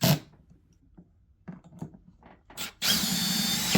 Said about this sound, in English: Then tighten the screws into the mounts completely.